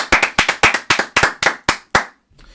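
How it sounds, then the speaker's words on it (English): Round of applause for Luis Arraez and the Marlins, performed as about ten sharp, close hand claps in a quick even rhythm, ending abruptly. "a round of applause for Luis Arraez and the Marlins"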